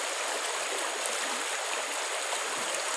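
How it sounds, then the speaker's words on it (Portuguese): An overflowing creek in the Brazilian sertão, swollen by June rains, rushes with steady unbroken close water noise. "o Caioca, que é esse riacho aqui,"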